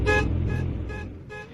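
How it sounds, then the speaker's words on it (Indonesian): A car alarm going off in short repeated electronic tooting bursts, four blasts with brief gaps, fairly loud and close against a low rumbling background. "Alarm mobil saya."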